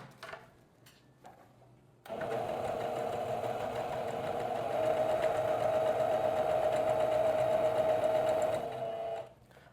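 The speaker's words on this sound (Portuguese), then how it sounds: "a gente vai começar essa costura com um pezinho de máquina" Sewing machine with a presser foot stitching a blouse seam, starting after a few quiet handling clicks and then running as one continuous, close, steady whirring burst for about seven seconds before stopping.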